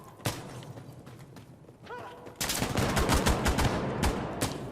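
Gunfire from the video game Insurgency: Sandstorm on the Ministry map: a few scattered shots, then a sustained, loud rattle of rapid automatic fire over the last half.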